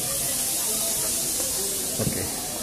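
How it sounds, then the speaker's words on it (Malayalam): A pressure cooker inside a house along a narrow lane in Dharavi, Mumbai, gives off a steady, moderately distant hiss, with faint street sounds and murmuring voices around it. "പ്രഷർ കുക്കറിൻ്റെ ശബ്ദം കേൾക്കാം."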